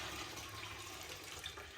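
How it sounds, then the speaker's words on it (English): Water sloshes and pours off a gold-prospecting pan outdoors, a steady close rushing splash lasting under two seconds, with no voices. "Let me dump off a little bit of that water."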